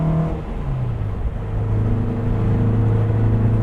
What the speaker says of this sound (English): Fourth gear, a bit of an overdrive, but still, given the power, has plenty of grunt when you just put your foot down